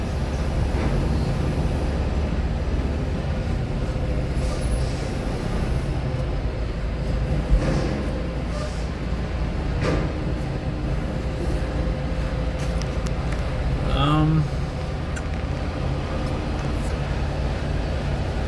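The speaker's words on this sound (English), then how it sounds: "So now I'm going to pull forward and weigh up my trailer." A loaded semi-truck with trailer creeps forward onto a weigh scale, its engine a steady low rumble throughout, with a brief rise in noise and a faint whine near the end.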